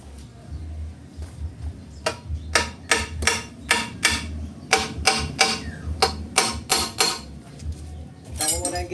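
Repeated metallic hammer strikes ring out in an irregular series of sharp, bright impacts, several blows in quick bursts, close and fairly loud over a low engine-like rumble, with a voice briefly at the end.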